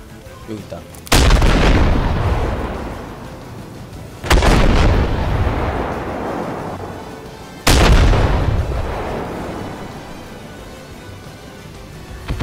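Artillery fire in the tank combat game Armored Warfare: three heavy booming shots land about three seconds apart, each a loud sharp blast that rolls off into a long decaying rumble.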